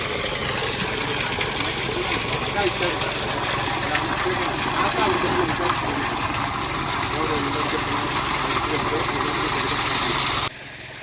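A steady, loud engine-driven pump drains a pond, droning continuously with a rushing water undertone, running almost unbroken before cutting down abruptly near the end.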